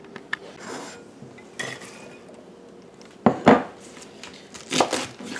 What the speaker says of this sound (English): Cutting our cabbage up into small pieces.